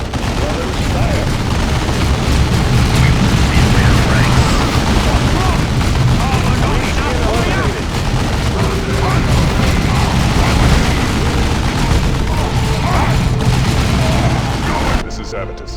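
Dense gunfire and explosions in the Warhammer 40K strategy game Dawn of War 2, loud continuous volleys and booms layered over game voice chatter.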